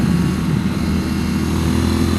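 A 2019 Triumph Speed Twin motorcycle engine drones steadily and loudly while riding, a dense low rumble with wind noise and no break throughout.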